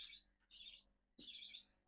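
Short bursts of high, thin chirping from a lovebird chick, quiet and close, in three separate calls with short pauses between them.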